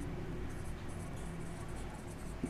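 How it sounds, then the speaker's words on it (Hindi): Pen scratching steadily on paper while a math solution is written out, a quiet continuous rustle at close range with faint background hum. "तो यहाँ पे हम लिखेंगे"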